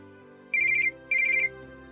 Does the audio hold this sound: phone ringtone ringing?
yes